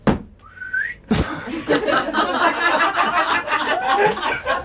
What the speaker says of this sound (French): Au moment où je fais « hein », vous sifflez.